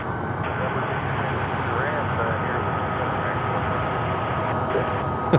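An airliner at Charlotte Airport uses reverse thrust as it slows and leaves the runway, giving a steady, broad engine roar that holds at an even level throughout.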